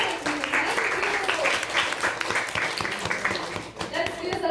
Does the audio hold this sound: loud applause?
yes